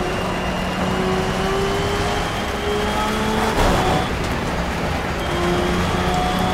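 Pagani Zonda Cinque Roadster in the Project CARS racing game, its engine holding a steady drone with tonal whine in heavy rain, broad wet road noise underneath throughout, no speech.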